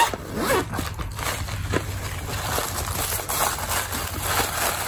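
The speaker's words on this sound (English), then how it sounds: "it has a zipper closure." A zipper slides along the closure of a Chanel Holiday 2019 limited-edition pouch, giving a steady, close, continuous rasp that runs for several seconds with no talking.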